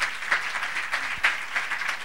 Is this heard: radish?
no